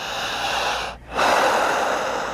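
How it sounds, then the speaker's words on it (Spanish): A person draws in one long, strong breath through the nose, a rushing inhale that swells after a brief pause, close and loud with no talk. "jale el aire igual que yo. Haga esto. Fuerte."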